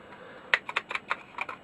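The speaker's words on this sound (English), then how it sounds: "they do have a really nice keyboard action on them" Keys on a Dragon 32 home computer keyboard are pressed in a quick irregular series of crisp, close clicks over a quiet background.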